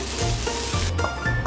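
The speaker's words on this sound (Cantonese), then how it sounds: "其實臘腸開鑊真係 OK 啊，勁油啦已經。" Chinese sausage (lap cheong) sizzling hard in a hot, oily wok, a loud continuous crackle with brief scraping stirs and no talk.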